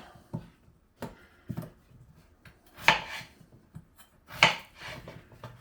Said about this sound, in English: Deafeningly loud chopping board.